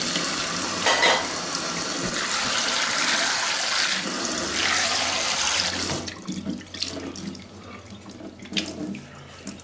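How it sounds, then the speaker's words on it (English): Tap water runs loudly into a cooking pot being rinsed out after cooking tapioca, a steady rushing splash that cuts off partway and is followed by softer drips and sloshing as the pot drains. "Rinse the pot out a bit."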